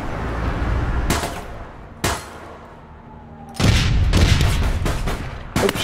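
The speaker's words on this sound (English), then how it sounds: "Oh shit, I just threw a grenade on myself." A grenade blast in a multiplayer shooter video game: several sharp, loud explosive bursts with rumbling tails, clustered near and punchy amid gunfire, with no voices.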